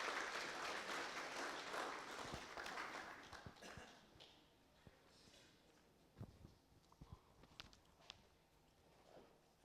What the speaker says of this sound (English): May we please give him a round of applause as he comes up.